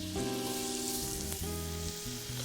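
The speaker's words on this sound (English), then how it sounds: "you can hear the shrimp cooking" Shrimp sizzle in melted butter in a hot pan, a dense, loud, continuous frying hiss heard up close, with no voices over it.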